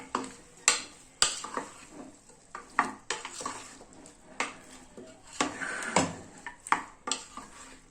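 A spoon stirs turmeric into mutton curry in a pan, giving repeated sharp scrapes and clinks against the metal over a low sizzle, moderately close, with no talking.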